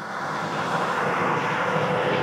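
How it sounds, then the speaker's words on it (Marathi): A car ferry's engine drones loudly and continuously at a jetty near Shrivardhan–Harihareshwar. The sound is a dense, steady low rumble with no voices over it. "खूप आवाज, इंजिनचा खूप आवाज."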